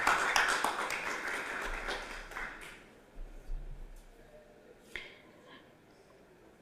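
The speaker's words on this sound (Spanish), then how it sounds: "Un fuerte aplauso" Applause at an academic tribute ceremony at a university starts as a brisk patter of clapping, then fades after a few seconds into scattered isolated claps amid quiet room tone.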